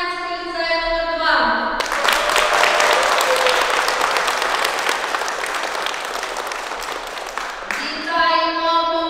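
Loud, dense applause from a crowd at a school sports event for a lyceum team, starting abruptly after a brief stretch of music and stopping sharply near the end as the music returns.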